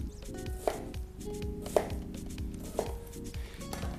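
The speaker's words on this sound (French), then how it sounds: "Vous découpez, vous voyez, votre oignon en gros cubes." Knife chopping an onion into large cubes on a board: a quick run of close, crisp thuds with a few louder strikes, no voices.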